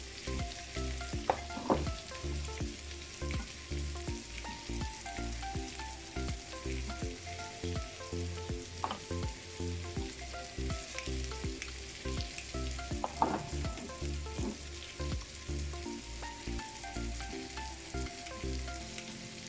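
Onions fry in a pan with a dense, continuous crackling sizzle and some stirring clatter, loud and close throughout with no voices.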